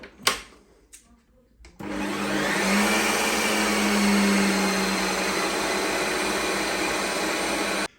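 A Ninja Creami ice cream maker respinning a frozen pint: after a few quiet knocks, the motor kicks in with a loud, steady whirring drone that holds nearly unchanged until it cuts off at the end.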